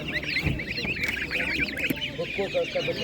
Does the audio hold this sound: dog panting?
no